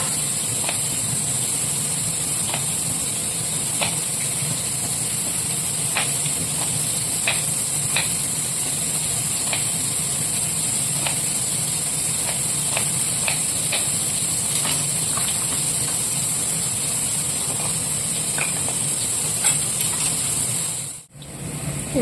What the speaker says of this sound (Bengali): এদিকে মাছ ভাজা হয়ে গেছে